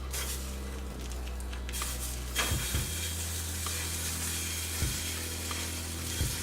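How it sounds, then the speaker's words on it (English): Jimmy Dean country mild sausage, a pound of it, browns in a pan with a steady close sizzle throughout, broken by a few scraping stirs of the spatula. "So what we're going to do is you're going to brown the sausage."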